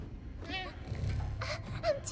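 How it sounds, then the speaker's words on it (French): A small cat meows in the video game Pragmata, with two short, high, wavering meows, one early and one near the end, over a low background hum. "Un petit chat."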